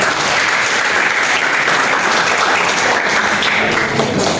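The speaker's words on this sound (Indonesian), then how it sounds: "Ya, tepuk tangan untuk teman-teman." Applause from a university class for students after their group presentation, a dense, steady burst of clapping filling the room at full volume, with no talking over it.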